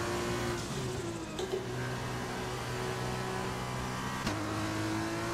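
A Formula 2 car engine in F1 2020 at Monza revs hard and steadily, with crisp upshifts breaking the drone near 1.4 and 4.3 seconds; a close, continuous onboard engine note with no talking.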